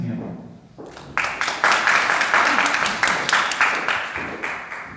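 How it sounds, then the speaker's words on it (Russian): Audience applause at a gathering swells in about a second in and then holds as a dense, steady wash of many hands clapping close by, easing slightly toward the end. "под ваши аплодисменты"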